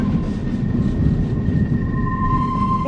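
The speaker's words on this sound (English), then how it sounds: "there's this really neat noise the wheels make when the train goes around the bend" Wheels of the California Skunk Train squealing around a bend, a steady high-pitched metallic singing tone sustained over a low rumbling roar of the moving train.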